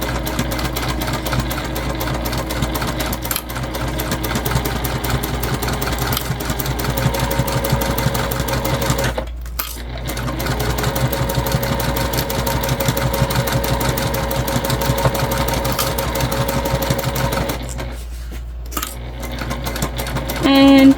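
A sewing machine runs steadily as it stitches the curved seam of a bulky fabric Zodiac clutch bag. The hum is continuous and fairly loud, with two short pauses, and there is no talking.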